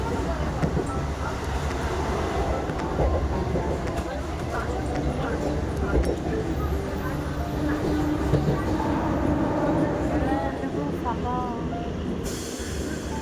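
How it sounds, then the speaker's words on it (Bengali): A fairly empty morning local train departing Sealdah station rumbles and rattles continuously from inside the carriage, with wheel squeals and voices blending into the steady noise. "আর আমরা কিন্তু ট্রেনেও উঠে গেছিলাম, আর ট্রেনটা কিন্তু মোটামুটি ফাঁকা ছিল"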